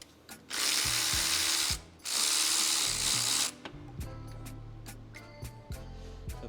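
A hand ratchet backs out starter motor bolts on a 2007 BMW 530xi, with two sustained bursts of rapid clicking close by, then scattered softer clicks and knocks as the tool is handled.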